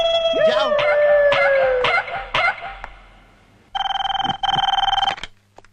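An old-style telephone rings in a Telugu film scene: two bursts of a loud, close electronic trill come after a stretch of chatter, talking and a shrill vocal sound.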